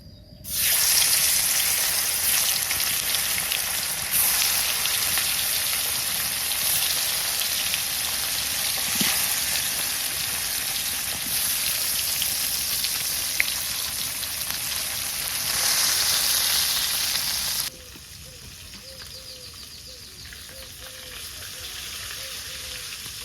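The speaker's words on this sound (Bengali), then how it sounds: "তেল তো তাপে গেছে গা মাছ দিয়ে দিই" Fish sizzles steadily in hot oil in a wok, a loud continuous frying hiss that cuts off sharply near the end and drops to a softer, quieter sizzle.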